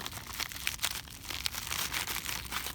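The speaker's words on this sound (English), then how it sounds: "Comes in a little plastic bag, and then it looks like it comes inside another plastic bag." Crisp, close crinkling of a small plastic bag used as packaging for pipe shield cloths, irregular rustles and sharp crackles continuing steadily as the bag is handled.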